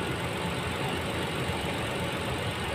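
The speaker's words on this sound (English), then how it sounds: "So now it's already starting the engine." A Mitsubishi Pajero engine runs steadily at idle, a continuous mid-pitched rumble with a faint knocking texture, close by and without speech.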